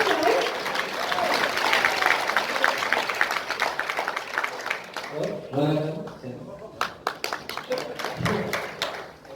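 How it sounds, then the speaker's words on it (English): Audience applause for author Chetan Bhagat at a book launch conclave, a dense burst of clapping that thins into scattered claps, with a speaker's voice over it. "let's give him a huge round of applause"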